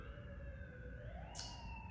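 A distant siren wails continuously, its pitch slowly rising, faint under a steady background hum.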